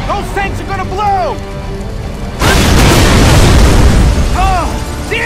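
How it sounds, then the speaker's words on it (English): Fuel tanks explode in Gears of War 3 in one sudden, loud, roaring blast that rumbles on for several seconds, with shouting voices before and after the burst. "Those tanks are gonna blow!"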